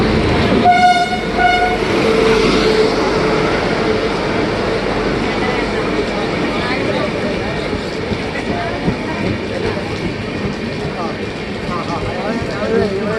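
The Kanyakumari Express from KSR Bangalore rumbles and clatters into platform 2 on a rainy day, with a horn tooting early on and a public address voice announcing it over the rolling noise.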